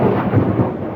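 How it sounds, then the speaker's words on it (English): Thunder rumbles outside during a rainstorm, a loud, deep continuous roll lasting about a second. "thunder outside"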